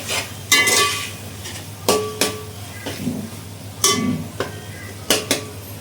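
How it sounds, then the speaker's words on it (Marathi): Masala stirred in oil in a pan for vegetable pulav, heard as repeated sharp scrapes and clinks of a spoon against metal in irregular bursts, close and fairly loud, with a faint sizzle between. "इथे मसाला तेल सुटेपर्यंत परतून घ्यायचं आहे"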